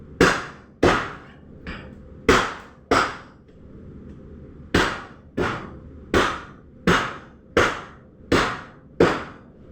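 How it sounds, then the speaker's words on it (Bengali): Mutton being chopped for lunch with a cleaver, about a dozen loud, sharp thwacks landing at a steady pace, with one brief pause partway through. "এবার কাটিং করছি মটন।"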